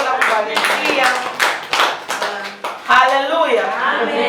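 A church congregation claps their hands in praise of Jesus, a steady, rhythmic round of close, crisp claps mixed with voices.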